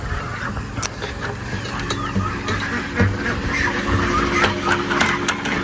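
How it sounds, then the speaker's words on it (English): Loud quacking from female ducks on a homestead, scattered sharp calls over a steady engine-like drone and background noise, with some speech mixed in. "the loud, quacky ducks, the real obnoxious ones, they're all female"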